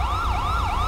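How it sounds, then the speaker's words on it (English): Wailing police car siren in the video game GTA 5, a close, loud electronic tone sweeping up and down in smooth repeated cycles over a low engine rumble. "Yes, you can put the siren off."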